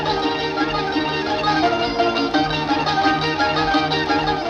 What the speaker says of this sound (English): What you hear is the lively dance called the kolo